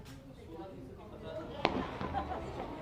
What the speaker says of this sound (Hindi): देखिए आतिशबाजी का जोर अभी भी जारी है